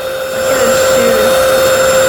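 Up close, a cordless vacuum cleaner starts up and runs with a loud, steady motor whine that holds constant for the whole moment.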